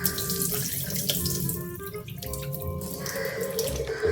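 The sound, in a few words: draining water from boiled chickpeas in the sink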